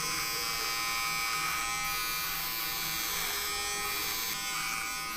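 A Xiaomi Uniblade electric trimmer runs continuously while shaving a neck, giving a steady, close, high-pitched buzzing whir that holds throughout with no talk.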